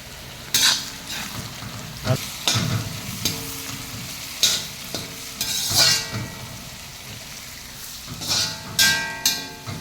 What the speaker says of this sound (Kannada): ಚೆನ್ನಾಗಿ ಫ್ರೈ ಮಾಡ್ಕೊಳ್ಳಿ ಹಸಿ ವಾಸನೆ ಹೋಗುವವರೆಗೂ ಅಷ್ಟೇ ಫ್ರೈ ಮಾಡ್ಕೊಳ್ಳಿ